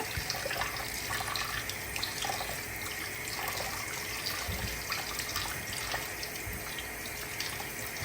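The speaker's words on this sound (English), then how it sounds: "So first I'm going to wash the chicken with cold water." Cold tap water runs steadily into a kitchen sink as raw chicken is washed, a continuous close hiss and splatter with small irregular splashes and no talk.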